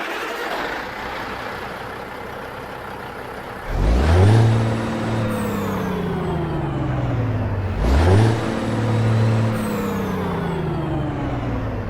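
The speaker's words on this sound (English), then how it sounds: "The engine sounds you're hearing today are none other than the Engine and Transmission Compilation mod" Kenworth W900 with a Caterpillar C16 engine in American Truck Simulator: an engine cranks and fires twice, each start rising into a loud rev that settles into a rumbling idle, with whining harmonics and a hiss of air between the starts.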